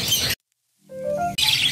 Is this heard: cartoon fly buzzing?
no